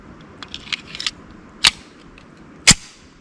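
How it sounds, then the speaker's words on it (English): A Colt 1911 Competition pistol is fired at a 60-yard target. Light clicks of handling lead into two sharp, loud shots about a second apart, with faint outdoor ambience underneath. "8 more rounds with the Colt competition."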